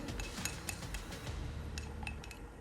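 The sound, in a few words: stirring black penetrating oil stain mixture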